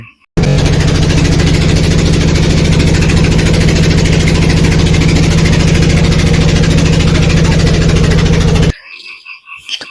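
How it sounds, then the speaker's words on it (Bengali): A trawler boat's engine runs loud and steady on a river, a dense, throbbing drone that starts abruptly, holds constant for about eight seconds, then cuts off to quieter surroundings. "তারপর ট্রলার ছাড়ার পর আমরা নদীপথ হয়ে যাচ্ছি ওই পাশে, ঘেরের ওইখানে।"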